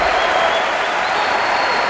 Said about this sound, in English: replacing Atiba Prater, who gets a fine hand from the crowd and well-deserved.